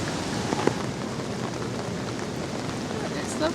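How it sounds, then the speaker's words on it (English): Steady patter of rain falling on river water, a soft continuous hiss of many small droplets, with an occasional faint distant rumble. "It's lovely, all the little raindrops hitting the water."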